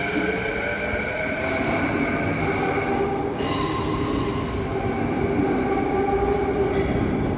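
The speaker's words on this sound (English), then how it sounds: "So there goes the SkyTrain. Heading on out." A Vancouver SkyTrain pulls away from Waterfront Station, its loud steady rumble joined by high squealing wheel tones that rise and shift as the cars roll out, with no talk over it.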